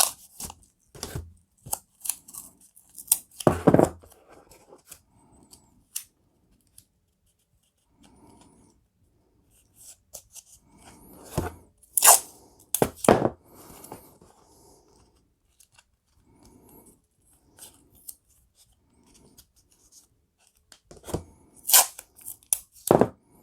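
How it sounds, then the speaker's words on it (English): Masking tape is pulled, torn and pressed onto all four sides of a small sports card package, giving short scattered ripping and rubbing sounds between quiet pauses, close and fairly soft. "Use the masking tape."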